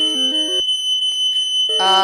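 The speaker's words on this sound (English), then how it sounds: "That is an alarm." An electronic alarm goes off in a room, sounding rapid stepped beeping tones in two bursts separated by a short gap, loud and close over a steady high whine, with no talk.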